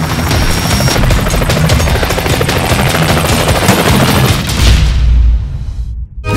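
Helicopter in a Bhojpuri film trailer, a loud dense rotor roar mixed with booming and rapid gunfire-like impacts throughout, fading into silence at the close.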